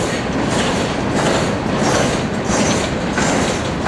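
A CSX coal train rolls past up close, its railcars clunking steadily over the rails in a loud, continuous rumble with rhythmic clatter and no voices.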